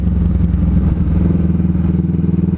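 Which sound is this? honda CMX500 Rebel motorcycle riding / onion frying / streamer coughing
honda CMX500 Rebel motorcycle riding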